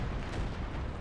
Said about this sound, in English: Meanwhile, artillery support is hitting